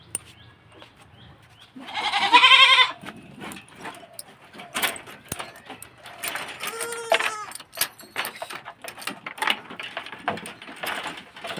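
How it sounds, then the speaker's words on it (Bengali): A goat bleats loudly and close by in a long quavering call, then cries again more briefly a few seconds later, between scattered household clatter and soft movement. "আমার থেকে বেশি ছাগলের আওয়াজ।"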